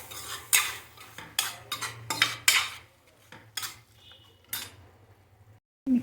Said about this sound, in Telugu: దీన్ని కూడా బాగా మిక్స్ చేసుకుందాం